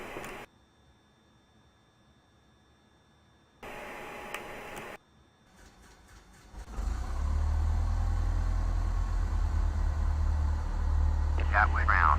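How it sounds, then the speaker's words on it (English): A simulated aircraft engine starting in Microsoft Flight Simulator X: short electronic tones and clicks, then a loud low rumbling engine drone builds and holds steady. "we're going to turn on the engine."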